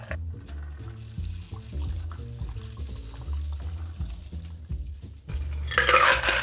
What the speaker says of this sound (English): what we're going to use is a fine strainer and your Hawthorne strainer to keep out any of the ice chunks and lemon pulp